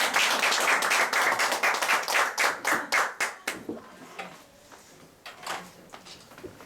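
Audience at a lecture breaking into applause, a burst of many hands clapping loudly at first, then thinning into scattered claps and fading away.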